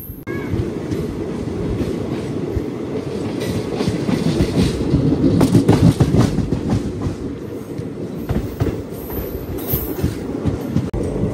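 The Narsapur Dharmavaram Express pulls away from the platform with a steady, loud rumble of wagons. Rhythmic clickety-clack of wheels over rail joints builds midway, with faint wheel squeal and no voices.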